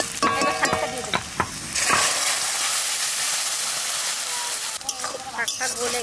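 Drumstick leaves hit a hot pan and erupt into a loud, hissing sizzle that settles into steady frying, with clattering stirring and utensil knocks at the start and end.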